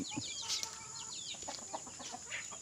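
Backyard chickens clucking and chirping while feeding, several close birds giving short, soft, irregular calls over light scratching and pecking noises.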